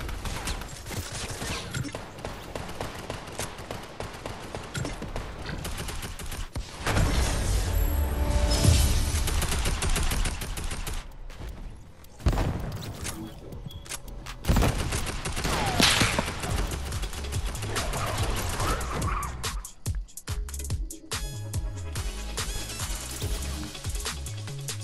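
Rapid bursts of gunfire from a new weapon in Fortnite rattle through dense game action, loud and sustained with short breaks and heavier stretches midway, without talk.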